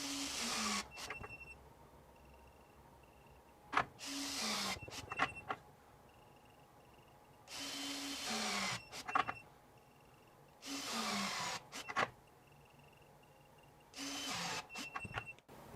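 A DeWalt DCF901 XTREME 12V brushless 1/2-inch impact wrench runs in reverse on a 3Ah battery, firing in several separate bursts of loud, rattling hammering with a motor whine that ramps up and cuts off, separated by short quiet gaps.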